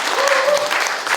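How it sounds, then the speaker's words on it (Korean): A brief burst of audience applause at a public forum on a Gwangju–Naju railway, dense steady clapping from a seated crowd, loud and close for about a second. "여러분 격려 박수 부탁드리고요"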